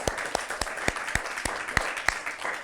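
Children at a kids' school competition clap for themselves, a small group producing a steady patter of applause with sharp individual claps standing out at a regular rhythm, fairly close and moderately loud.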